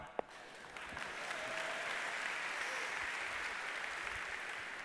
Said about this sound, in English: Upon completion, you can clap.